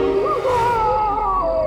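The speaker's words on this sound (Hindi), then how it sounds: "एक आत्मा की चीख है।" Eerie drawn-out wail like a ghostly scream from a horror show set at Gorakhpur railway station, a wavering howl-like tone sliding and sustained over a low rumbling drone throughout.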